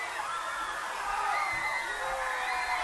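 A home crowd cheers and whoops after a 9-yard touchdown run late in a Gering high school football game under the lights, a broad, sustained roar with scattered shouts from the stands.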